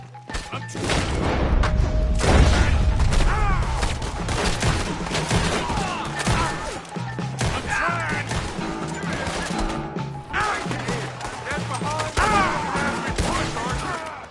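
Gunfire and crashing impacts in the Western video game Red Dead Redemption 2 during a wagon shootout, loud, dense bursts of shots layered with thuds and shouted voices throughout.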